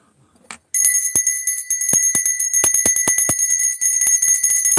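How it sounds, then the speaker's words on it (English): A bell is rung rapidly, producing a bright, sustained metallic ringing with quick repeated strikes, loud and close, after a brief near-silent start. "I'm ringing a bell"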